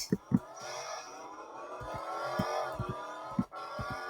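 A car engine in the Roblox game Driving Empire drones steadily with harmonic revving, rising and falling slightly, punctuated by several short low thumps.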